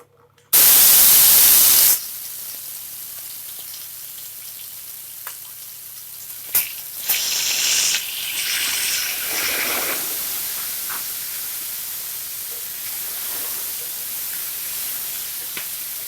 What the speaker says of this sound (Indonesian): minyak sudah kita panaskan. Kita akan menumis bumbu halus ya.